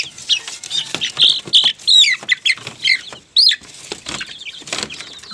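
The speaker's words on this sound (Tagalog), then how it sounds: "At ito pa po yung ibang mga sisiw natin." Chickens and young chicks cluck and peep in a busy, close chorus with repeated high chirps and short calls, plus brief bursts of wing flapping, and no talking.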